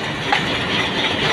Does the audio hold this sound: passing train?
yes